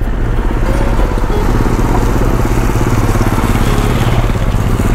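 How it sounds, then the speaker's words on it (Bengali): Motorcycles on the mountain road to Khardung La pass near Leh rumble loudly and continuously, their engines close and droning with a throbbing low pulse. "প্রচুর বাইকার এই রাস্তায়,"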